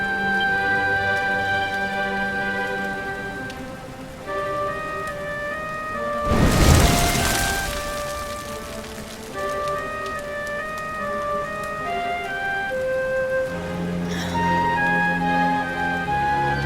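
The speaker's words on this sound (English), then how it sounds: "Looks like the rain's dying down." Steady rain falls in the Dragon Quest XI video game world, a continuous soft wash under sustained musical tones, with a brief loud rumble like thunder midway.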